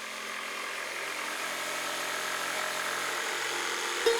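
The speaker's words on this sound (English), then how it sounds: "drop the blade of a jigsaw in the opening and begin sawing." A jigsaw cutting wood whines steadily at a constant buzzing pitch, fairly quiet and unbroken, with no talking over it.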